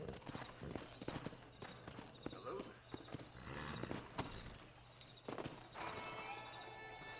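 A horse's hooves clop at a walk in a Red Dead Redemption game scene, with a soft whinny and snorts, faint voices and ambient sounds around it.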